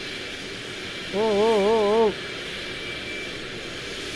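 Airplane passing overhead in the Euro Truck Simulator 2 driving game, a steady broad roar filling the whole clip while a man lets out a drawn, wavering exclamation in the middle.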